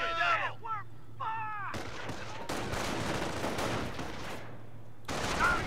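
Bursts of gunfire and rumbling explosions during a Company of Heroes video game battle, with shouted voice lines from in-game soldiers at the start and end, loud and dense through the middle.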